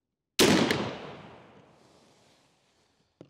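A Hawken muzzleloader rifle loaded with a Lee REAL 250 grain conical fires a single loud, close blast outdoors, and its long rumbling tail fades over about two seconds. A faint click follows shortly after.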